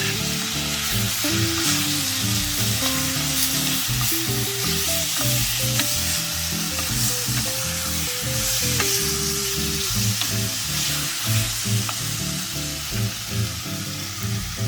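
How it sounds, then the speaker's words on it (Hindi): Steady, loud sizzling of a paste frying in hot oil, with a spoon stirring and scraping the pan throughout; no talking. "We're going to add the ginger garlic paste."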